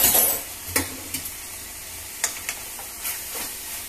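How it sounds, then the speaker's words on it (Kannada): Fresh green peas with turmeric and ginger-garlic paste, stirred in a pan for a potato-pea curry: a low sizzle broken by several sharp spoon scrapes and knocks at an uneven pace, close up, with no voices. "ಚೆನ್ನಾಗಿದೆಲ್ಲ ಮಿಕ್ಸ್ ಮಾಡ್ಕೊಳ್ತಾ ಇದೀನಿ"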